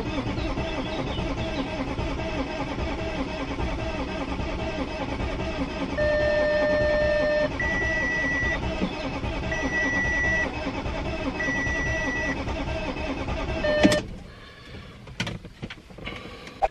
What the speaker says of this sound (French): Alors la voiture ne démarre plus